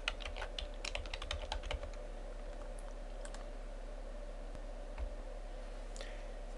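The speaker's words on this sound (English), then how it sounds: "I'm going to type in my password." Someone types a password on a computer keyboard, a quick run of light key clicks followed by a few isolated taps over a low steady hum.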